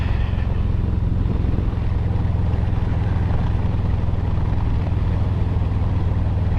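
A motor vehicle cruises along a road on its first ride after the snow melted, with a steady, dense engine drone and road rumble that stays even and fairly loud without pauses.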